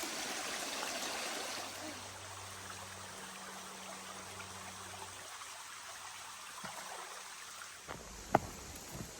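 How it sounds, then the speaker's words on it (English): Water streams and trickles over slick rock at a creek crossing on the Indian Creek Trail in Hanging Rock State Park, a steady broadband wash heard close with a faint low hum and a brief clatter near the end. "This is one slick creek crossing here."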